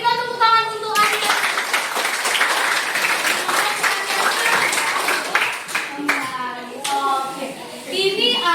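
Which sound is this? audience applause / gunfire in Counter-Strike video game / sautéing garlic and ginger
audience applause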